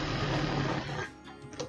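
A sewing machine double stitches along the edges of a non-woven bag strap, a fast close whirring run that slows and trails off into a few softer stitches.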